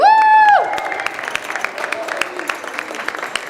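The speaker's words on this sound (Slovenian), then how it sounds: "Navijačev nimajo svojih, zato jim bomo zaploskali vsi." School audience at an eco-quiz competition clapping for a team, steady crowded applause that swells after a brief tone at the start and continues evenly throughout.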